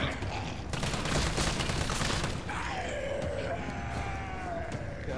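A dense stretch of continuous automatic gunfire rattles through the hospital assault in Resident Evil 3, loud and close, then thins into scattered shots with echoes and wailing enemy noises behind it.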